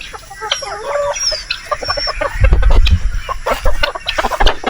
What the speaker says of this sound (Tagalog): Una natin papakainin yung mga naiitlog na manok